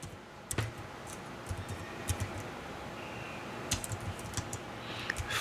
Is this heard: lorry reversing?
no